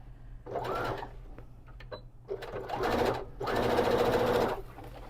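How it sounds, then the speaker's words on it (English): A sewing machine top stitches fabric at a quarter inch while making a small pouch for a tote bag. It whirs in three close bursts of rapid stitching, with pauses and light handling clicks between them. "So at a 1/4 of an inch, let's go ahead and top stitch."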